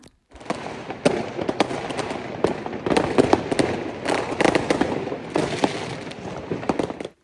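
New Year fireworks and firecrackers burst continuously in dense, rapid volleys of loud crackling pops and bangs, close by and steady throughout with no talk.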